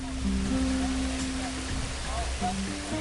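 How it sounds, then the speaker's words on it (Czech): Steady rain from a thunderstorm in Kenya hisses down in a dense wash of noise, with a low hum and faint voices in the background. "Déšť v Keni? To je hodně vzácné."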